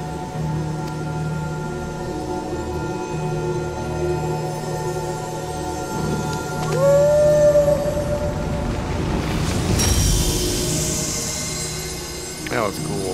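A dog-like beast lets out a single rising howl partway through a Final Fantasy XVI game scene, heard over ambient game sound and music, followed by a burst of noisy effects.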